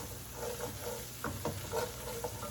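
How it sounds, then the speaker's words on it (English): Chicken and onions seasoned with black pepper are stirred in a hot frying pan, a steady close sizzle broken by several scraping stirs of the spoon, with no voices. "Give it another good mix"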